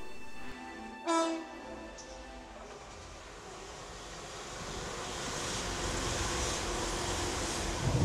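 A train running on a passenger journey: a brief horn sounds early on, then a steady rumble of the moving train builds and holds, fairly quiet and without talk.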